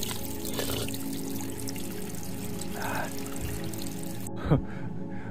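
Mountain stream water pours and trickles continuously at moderate volume, with a short sharp knock near the end.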